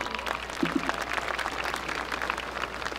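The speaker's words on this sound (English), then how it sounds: "Give them a round of applause." A large crowd applauding at a high school graduation ceremony, steady dense clapping heard from a distance and fairly faint throughout.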